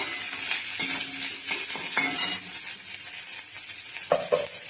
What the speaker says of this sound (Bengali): তো আমি পেঁয়াজটা লাল করে একটু ভেজে নিই